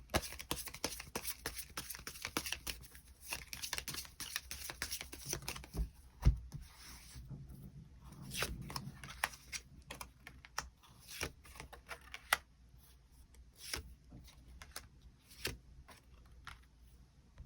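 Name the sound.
shuffling tarot cards to draw an extra card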